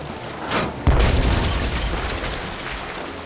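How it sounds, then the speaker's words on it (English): A deep cannon blast from the video game Tales of Monkey Island, a sudden loud boom followed by a long rumbling, crackling decay that fills the rest of the clip. "Then empty the cannons on him, me hearties!"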